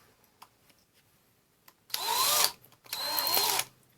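A Black & Decker 85th Anniversary 14.4V cordless drill running on a Milwaukee M18 battery bores with very sharp bits in two close, loud whirring bursts of about half a second each, preceded by a few faint clicks.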